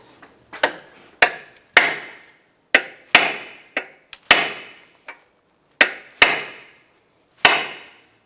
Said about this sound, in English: give it a few whacks